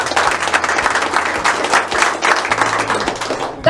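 A crowd at the Federal Cup 2024 opening ceremony claps steadily and loudly for the non-playing team captain, a dense sustained patter with no voices over it, ending in a sharp burst.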